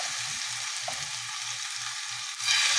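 Chicken sizzles and fries steadily in butter in a pan, a continuous close crackle with soft stirring scrapes, briefly louder near the end.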